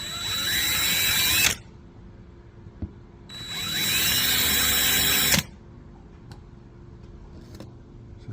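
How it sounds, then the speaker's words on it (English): A power drill bores a small pilot hole in metal for a Ford Econoline van, two loud bursts of high whining drilling, each ending sharply, with quiet pauses and light clicks between. "Now we're going to drill it with a really small drill bit"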